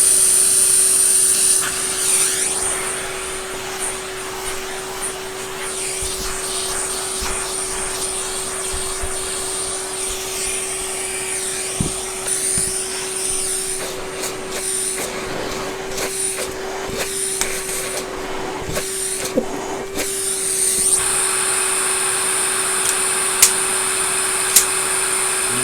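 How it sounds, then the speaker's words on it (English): A Hoover Junior Dirtsearcher upright vacuum cleaner runs steadily with a constant motor whine and roar, its pitch and airflow shifting as it sucks up debris, with occasional clunks of things being moved. "Let me just vacuum up."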